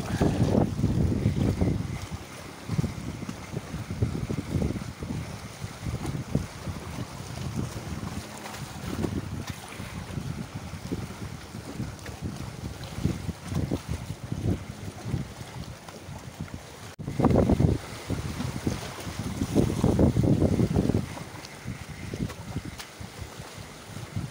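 Strong wind buffets the microphone in loud, rough gusts, rising and falling throughout with a steady roar underneath.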